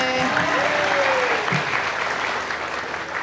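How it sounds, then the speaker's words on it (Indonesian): A television studio audience on an Indonesian talk show claps steadily for an elderly married couple, a broad even wash of applause that holds at a moderate level throughout and fades slightly near the end. "Kasih tepuk tangan dulu sekali lagi."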